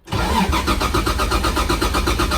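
Toyota 1JZ engine cranking on the starter, a loud close rhythmic churn that runs steadily without catching.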